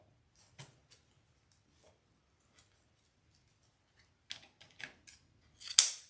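Scissors snip through ribbon while a bow is being made on a bow maker, a few quiet clicks followed by a sharper, louder cut near the end in an otherwise silent room.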